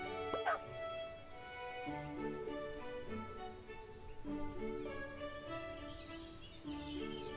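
Dog barks in the farming game Everdream Valley, a few short yips and woofs among bright music and birdsong.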